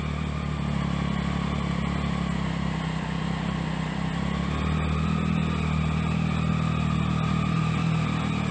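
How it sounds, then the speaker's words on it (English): A 2007 Triumph Daytona 675 sport motorcycle engine runs steadily and loudly up close, holding a rough, rumbling idle with little audible change in revs. "Give her a couple of throttle shots there, Justin."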